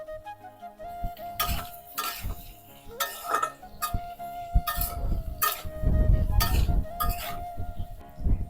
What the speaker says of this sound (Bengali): দু মিনিট হয়ে গেছে এবার খুলে নেড়ে দেবো